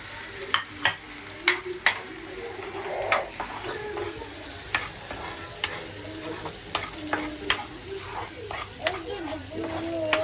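Hyderabadi chicken frying in a pan on a gas stove with turmeric added, sizzling steadily while a utensil scrapes and stirs in sharp, irregular clacks, close and moderately loud.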